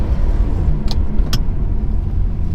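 A manual Ferrari 360's engine idles nearby with a deep, steady rumble, interrupted by two quick light clicks.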